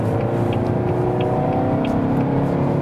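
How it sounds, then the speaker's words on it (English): Volvo V40 D4 diesel car accelerating hard from 70 to 100 on a motorway, a steady loud engine drone with rising harmonics and constant road and wind roar, no talking. "So now we can accelerate as well, 70 to 100"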